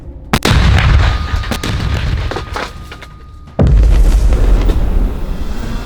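Two heavy mortar launches boom out at a combat firing position, the second louder and closer, with a rumbling tail and outdoor background noise between them.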